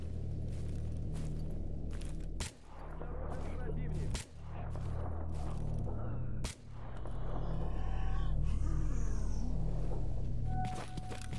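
Gunfire in S.T.A.L.K.E.R. switched to single fire: three sharp separate shots cracking out at intervals over a dense, continuous game soundscape with low rumble, followed by a brief final report.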